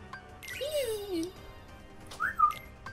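A person whistles a few short sliding notes while playing Kingdom Hearts 3. Two brief rising and falling phrases with a gap between them, close and fairly soft over quiet game background.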